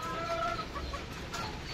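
A white Kelso brood hen clucks softly in a few short calls, faint against steady outdoor background noise.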